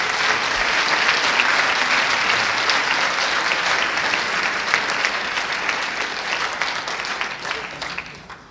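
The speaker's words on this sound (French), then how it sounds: "je vous propose d'applaudir très chaleureusement" A large audience claps steadily in warm, sustained applause that gradually fades toward the end.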